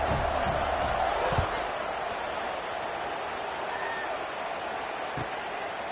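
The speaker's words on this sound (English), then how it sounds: "this crowd is buzzing after that last score" Football stadium crowd buzzing after a score before a kickoff, a dense, steady roar of many voices filling the whole clip at an even level with brief louder swells.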